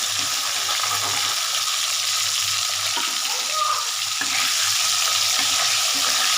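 Hilsa fish heads frying in hot oil give a loud, continuous hiss and sizzle with occasional small pops, heard close up.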